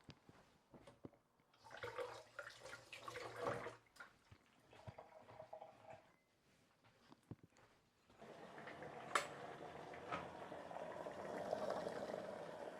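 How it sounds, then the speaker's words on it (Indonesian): Freshly boiled water poured over thinly sliced ingredients for steeping in a home kitchen, a quiet splashing pour that swells into a steady rushing stream after some faint clatter. "Jadi diseduh aja dengan air yang baru mendidih ya."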